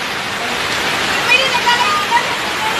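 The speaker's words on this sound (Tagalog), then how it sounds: "Oh, raining." Rain falls as a steady, dense hiss with a few scattered droplet ticks, close and fairly loud.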